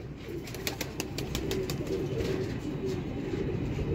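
A black-faced, quail-type pigeon coos steadily and close by, its low rolling calls running without pause under a few faint ticking sounds, with no voices.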